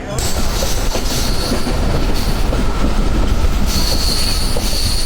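A crowded passenger train in motion, rumbling loudly and steadily close by, with wheel clatter and high squealing tones rising and falling throughout.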